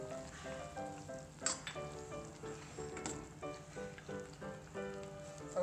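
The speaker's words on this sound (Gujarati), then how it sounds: "5 મિનિટ થઈ ગઈ છે તો હવે આપણે સેવ એડ કરી દઈશું" Sev is added to a tomato curry in a pan for Kathiyawadi sev tameta, with a soft, steady sizzle and occasional stirring scrapes that stay faint beneath a quiet, tonal background.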